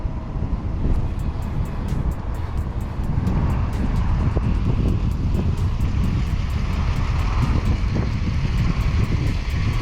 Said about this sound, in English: Let's take this car for a drive.